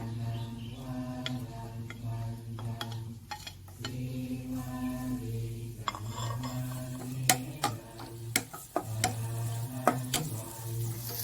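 Garlic and shallots stir-fried in a pan as the base for chicken with ginger, giving a steady close sizzle with scraping spatula strokes and occasional sharp clicks against the pan, continuous with no talking.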